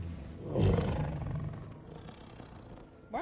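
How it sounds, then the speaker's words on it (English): Kraven's pet tiger in the video game Spider-Man 2 lets out one deep, close roar that swells and then rumbles on for a few seconds. "So Kraven has a pet tiger."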